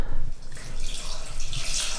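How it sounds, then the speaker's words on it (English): Water trickles and splashes steadily into wall texture compound in a container, a soft continuous pour with faint dripping, close by and alone. "I'm just gonna add a little bit of water at a time."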